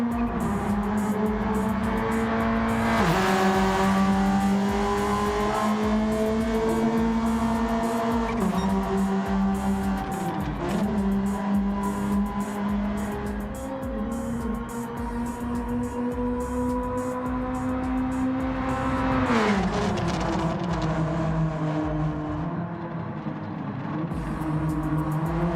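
Rallycross car in Gran Turismo 7 at Catalunya, engine droning steadily with pitch sweeps as it slides and drifts through corners, a loud continuous whine with shifts and dips across the run.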